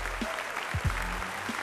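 A studio audience applauds to welcome the quizzer Shaun Wallace. The clapping is brief and soft, with a few louder claps near the middle.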